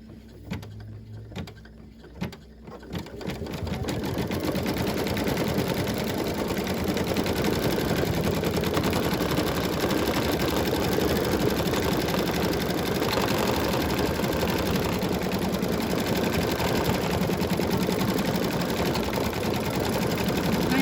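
An embroidery machine stitching down polka dot fabric for an eyeglass case: a few quiet knocks, then a steady rapid mechanical whirr and needle chatter starts and runs on evenly at close range.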